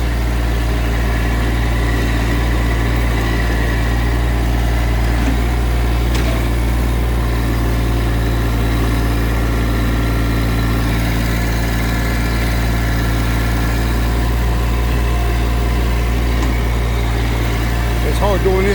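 A Massey GC1710 sub compact tractor's diesel engine runs steadily during property regrading, a loud, constant low drone with a strong rumbling hum and no breaks.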